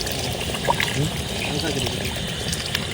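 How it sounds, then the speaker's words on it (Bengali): Water poured into a pot of potatoes being cooked outdoors for a vegetarian potato curry near a temple, a steady splashing trickle running under ambient noise and nearby voices. "কষানোর জলটা দিয়ে নেবো"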